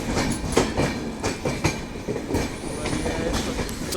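Malwa Express sleeper-class train pulling away from a platform, with rhythmic clickety-clack of wheels over rail joints and rumbling carriage noise heard from inside the coach, fairly close and loud.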